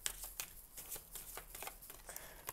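Tarot cards are shuffled and slid against each other in quick, soft riffles and flicks, close and fairly quiet with no talking.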